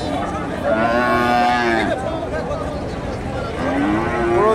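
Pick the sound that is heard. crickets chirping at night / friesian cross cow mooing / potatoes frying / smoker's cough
friesian cross cow mooing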